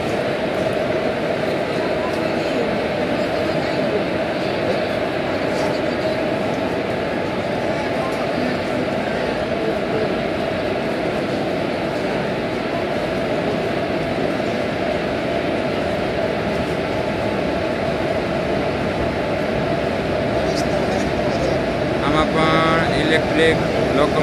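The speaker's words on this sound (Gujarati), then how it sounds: "ઇલેક્ટ્રિક લોકોમોટિવ લગાડવામાં આવેલું છે" Okha–Tuticorin Vivek Express, hauled by an electric locomotive with ICF coaches, at Rajkot Junction in the early morning: a loud, steady rumble and hum that runs throughout, with voices mixed in.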